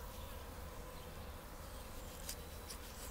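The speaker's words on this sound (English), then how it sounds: "That buzzing is flies, if you can't tell." Flies buzz steadily around a chicken being butchered, a faint, continuous insect drone with no talking over it.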